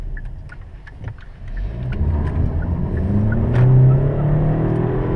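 A Hyundai Sonata's engine revs up steadily, its rumbling note climbing in pitch as the car accelerates, heard close from inside.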